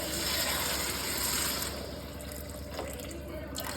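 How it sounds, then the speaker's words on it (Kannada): Water pours steadily into a pot, a continuous close splashing rush that eases off and quietens toward the end. "ನೀರು ಕಾದಿದೆ, ಇದಕ್ಕೆ ಹಾಕ್ಬಿಡ್ತೀನಿ."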